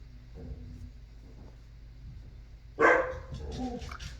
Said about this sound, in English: They're very highly reactive dogs, and the mail person came to the door to drop off a package